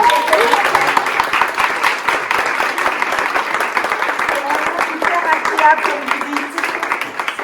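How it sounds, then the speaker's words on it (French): Thunderous applause for Aurélie at the welcoming reception for Mademoiselle France candidates: dense, steady clapping from a crowd filling the whole stretch, with voices audible underneath. "de demander aux filles vraiment un tonnerre d'applaudissements pour Aurélie"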